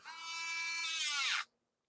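A Dremel rotary tool whines close and loud for about a second and a half, its pitch dipping under load, then cuts off abruptly to silence.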